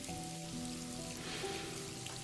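Steady rain falling with raindrops pattering on surfaces, a continuous even wash of sound at moderate level with no voices.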